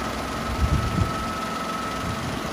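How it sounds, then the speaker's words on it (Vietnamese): Japanese-import automatic car engine idling quietly, a soft steady hum with fan noise and a faint low thump or two, close by, no speech. "máy nổ rất là êm luôn các bạn,"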